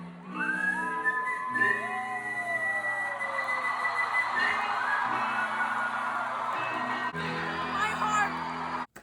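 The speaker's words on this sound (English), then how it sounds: "He's whistling, I can't." A singer whistles long, bright notes at a concert, gliding and sustaining over a noisy, cheering crowd, with a few pauses between phrases.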